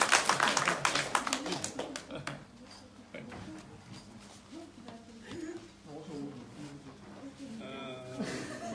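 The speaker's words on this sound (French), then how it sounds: "On peut applaudir notre partenaire." An audience claps for a partner at a live event, starting with brisk, sharp claps that thin out and fade while a voice talks over them.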